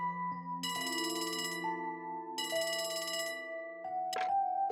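A telephone rings in the Trails from Zero video game, a bright electronic trill repeating in two long bursts over steady game music, followed by a short chime.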